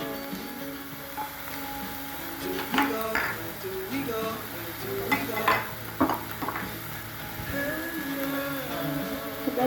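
Momo filling seasoned with black pepper and salt stir-fried in a pan, with soft sizzling and irregular scraping and clinking of the spatula against the pan, close by and moderately loud.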